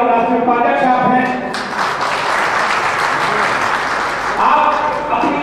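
Audience applause at a welcome ceremony in Jaipur, a steady, dense wash of clapping from a crowd that holds throughout with a slight dip midway, with some voices underneath.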